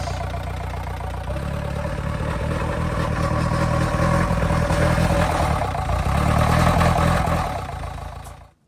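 An engine that wouldn't start before its timing was reset now runs on its own, a loud close steady clattering idle that swells slightly then cuts off abruptly near the end.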